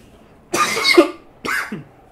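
Two separate coughs from one person, close and fairly loud, with a short silence between them and no other sound around.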